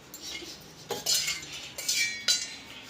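A spoon strikes and scrapes a steel bowl coated in cream, giving three or four sharp metallic clinks at uneven intervals, close and clear with no talking.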